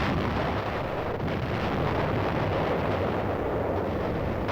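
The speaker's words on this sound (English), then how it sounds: "Ships of the UN fleet fire point blank at the island." Heavy naval gunfire from UN fleet ships bombarding an island at point-blank range, a continuous loud roar of booming blasts and rumble without any pause.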